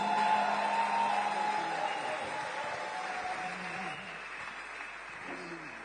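Congregation at a church gathering applauding to praise God as a visiting bishop is welcomed, with moderate clapping and a few voices under it, easing slightly over a few seconds.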